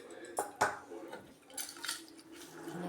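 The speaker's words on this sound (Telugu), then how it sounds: "ఇప్పుడు పోపు వేసుకునేద్దాం." Tempering is added to a pot of fenugreek leaf curry in a home kitchen, heard as a few sharp metallic clinks and clatters of utensil against pot. Soft, brief hissy bursts follow, close by, with no talk.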